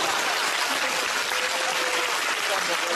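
Studio audience applause at a comedy show, steady dense clapping heard from start to end without a pause, fairly faint and spread wide like a large room full of hands.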